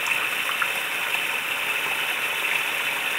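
Water pumped from a dug ditch reservoir flows through a hose into the spillway of a waterfall, producing a steady rushing hiss with a faint engine-like drone underneath.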